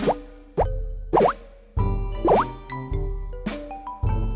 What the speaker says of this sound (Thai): คลิกที่ฟองน้ำเพื่อล้างน้ำให้สะอาดนะครับ